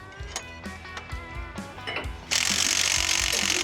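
A power tool runs down nylock nuts on the new suspension and lift kit of a Cummins Dodge Ram truck, starting with intermittent bursts and rattles, then settling into a loud, steady whine for the final second.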